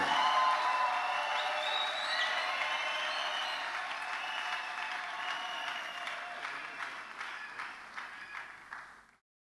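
A congregation at a church wedding ceremony applauds with dense, sustained clapping that gradually thins and fades out over several seconds.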